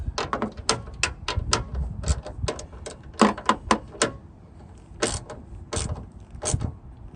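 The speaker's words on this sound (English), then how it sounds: "I'm gonna get my ratchet and I'm gonna just snug them" A hand ratchet snugs the reverse light bulb fasteners on a 2021 Toyota Tacoma TRD Pro, producing close, crisp clicks in quick irregular runs separated by short pauses.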